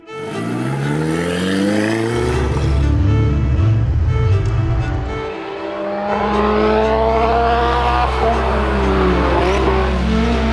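Race cars lapping a circuit at a GRIDLIFE South track event, with loud, sustained engine roar rising and falling through gear changes and a strong revving sweep midway, close and continuous with no talk.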